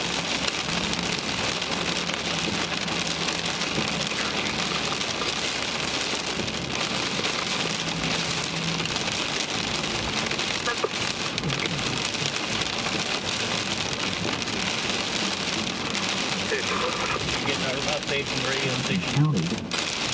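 Hail and heavy rain pound steadily on surfaces during a Kansas thunderstorm, a dense continuous roar throughout, with someone talking over a radio partly audible underneath.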